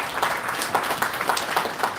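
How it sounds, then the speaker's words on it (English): An indoor audience claps steadily at a World Population Day event, a dense continuous patter of many hands applauding without voices over it. "Another round of applause for our DG."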